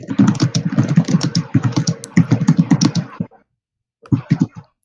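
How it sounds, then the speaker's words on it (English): Fast, close computer keyboard typing clatters in dense bursts for about three seconds, breaks off into silence, then resumes with a brief second flurry. "Add some typing."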